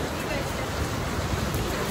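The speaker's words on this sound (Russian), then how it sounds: "Пошел тропический дождь, вдруг неожиданно, резко." Sudden heavy tropical rain pours down steadily as a dense, even hiss close by, with no breaks or individual drops standing out.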